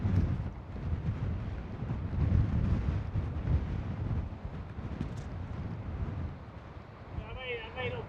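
Strong wind on the rocky coast at Downpatrick Head, Ireland buffets the microphone in loud, rumbling gusts, with faint voices under the roar.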